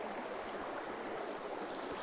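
Continuous rushing water of a small creek in the northern United States, a steady bright hiss and burble with no pauses or voices.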